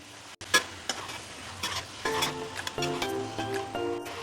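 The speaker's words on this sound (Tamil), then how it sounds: "இஞ்சியும் பூண்டும் போட்டு வதக்குனதும் நம்ம மிக்ஸ் பண்ணி வச்சுருக்க சிக்கனை போட்டுடலாம்" Chicken being stirred into sautéed ginger and garlic for a chicken gravy, with a steady sizzle of frying under repeated scraping stirs and light clinks. The sound is close and moderately loud, with no talking.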